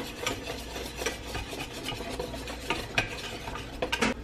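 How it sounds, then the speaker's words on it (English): Vanilla and powdered sugar frosting stirred until smooth, a continuous rhythmic scraping and rubbing of a utensil through thick mixture in a bowl, close and steady with occasional sharper taps. "And now I stir until smooth."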